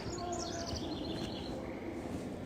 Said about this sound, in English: Chris, we're hearing lots of birds.